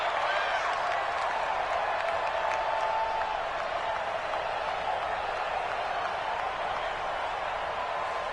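Dense stadium crowd noise from an NFL video game matchup between the Cincinnati Bengals and the Indianapolis Colts, a steady roar of cheering and clapping held at an even level throughout.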